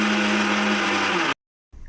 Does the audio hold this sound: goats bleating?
no